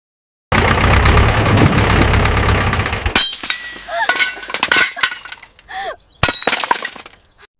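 Heavy smashing and breaking of a tractor, a loud crash with glass shattering over an engine rumble for about three seconds, then scattered clinks, knocks and debris noises with short gaps between them.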